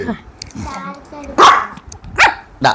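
A pet dog in a home where children are being taught chess gives a few sharp barks, loud and close, in the second half, after a stretch of people talking.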